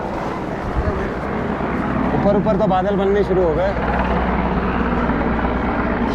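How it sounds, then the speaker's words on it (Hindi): A helicopter flies over the pilgrim town of Badrinath on a Chardham Yatra route, its steady rotor drone filling the background under continuous crowd noise and people talking nearby. "वो आया हेलीकॉप्टर।"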